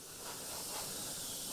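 Soft, steady hiss of an airbrush spraying paint along a template edge, rising slightly at the start and then holding constant, quiet and close.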